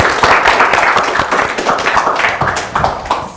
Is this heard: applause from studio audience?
yes